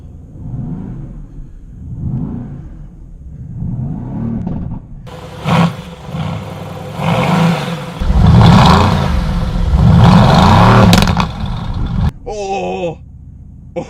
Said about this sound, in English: Oh god, I love it when an exhaust crackles.